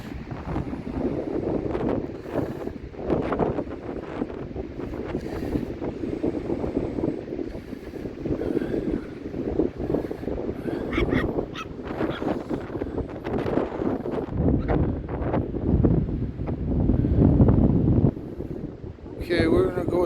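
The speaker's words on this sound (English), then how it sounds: "Beautiful place, but it's bloody windy out." Strong wind at Rathtrevor beach and campground buffets the microphone with a constant rumbling roar that swells and gusts for twenty seconds, with no clear speech over it.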